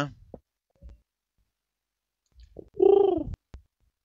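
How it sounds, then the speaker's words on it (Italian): A single pigeon gives a short, low coo close by, set among sparse faint clicks in an otherwise quiet scene from a Minetest game. "Un piccione, sì."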